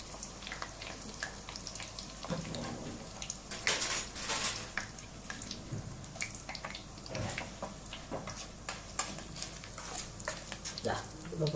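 Flattened rice (aval) frying in hot oil in a pan for a South Indian Diwali mixture, a steady sizzle mixed with stirring scrapes and utensil clinks, close by, with a voice talking at times.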